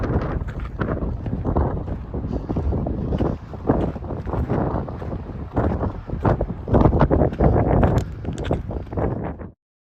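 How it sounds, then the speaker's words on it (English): Strong wind on a high Colorado mountain pass roars and buffets the microphone, loud and continuous in uneven gusts for nearly ten seconds before cutting off. "It's real windy up here"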